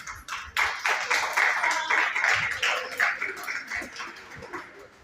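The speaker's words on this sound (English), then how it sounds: "please clap hands for yourself." A room of young people at a girls' mentoring event claps for themselves, a dense crackle of hands that starts suddenly and tapers off, with scattered voices underneath.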